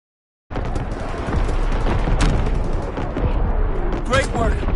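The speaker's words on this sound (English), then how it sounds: "incoming enemy artillery!" Incoming enemy artillery fire in a video game: a dense, continuous roar of blasts and booms rumbles for several seconds at steady loudness after a brief silent start, with a sharper crack near the middle.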